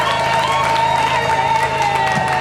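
A large crowd of women at a Katanga foundation gathering cheers and applauds continuously and loudly, a steady wash of clapping and shouts with voices mixed in.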